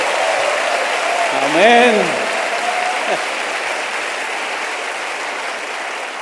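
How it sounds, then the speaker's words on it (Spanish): A church congregation applauds in a steady, dense wash of clapping that fills the whole stretch, while a voice calls out briefly over it. "Denle otro aplauso"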